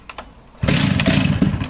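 A West German Stihl 076AVE chainsaw engine fires up and runs close by, a loud, raspy two-stroke roar after a few faint clicks.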